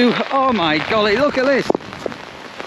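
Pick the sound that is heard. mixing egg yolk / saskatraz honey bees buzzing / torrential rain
torrential rain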